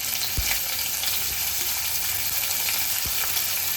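Chopped onion fries in hot oil with cardamom, cinnamon, a bay leaf and a dried red chilli, giving a dense, even sizzle heard up close, broken by a couple of soft utensil knocks and no talking.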